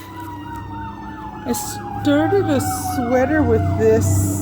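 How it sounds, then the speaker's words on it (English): A fire truck siren passing outside, wailing up and down steadily with a second warbling siren joining, moderately loud over someone talking indoors. "No, that was the fire truck."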